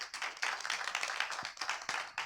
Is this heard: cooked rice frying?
no